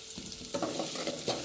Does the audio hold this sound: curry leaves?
yes